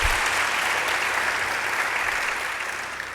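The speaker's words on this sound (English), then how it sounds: "I also want to ask the audience to give our student journalists a round of applause." An audience applauds student journalists at a university media society launch, steady dense clapping filling the whole moment at an even level before easing slightly at the end.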